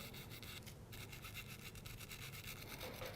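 A brush scrubs red paint out of an airbrush cleaner with quick, rough bristly strokes, close and fairly quiet, in a steady back-and-forth rhythm with one short pause.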